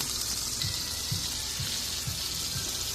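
Wagyu burgers sizzle steadily on a hot cooking surface just after being flipped and smashed flat. The frying hiss is continuous and close, with faint soft pops recurring underneath and no voices.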